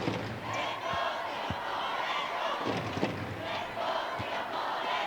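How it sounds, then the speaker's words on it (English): Singapore fans chant and cheer in a crowded hall at a men's wheelchair basketball game against Thailand at the ASEAN Para Games, with rhythmic shouts and sharp thuds of balls or slams throughout. "in the background you can hear the Singapore fans chanting, cheering."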